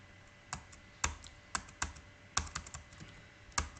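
Enter keys pressed on a computer keyboard give off a series of sharp, close clicks at an irregular pace, some coming in quick pairs. The clicks are quiet and stand alone without any talking.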